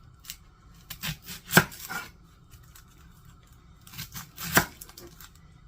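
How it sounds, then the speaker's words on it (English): An onion is chopped with a knife on a cutting board, a few sharp, close knocks in two short bursts separated by a quiet gap. "So I am going to chop up, not a real big onion"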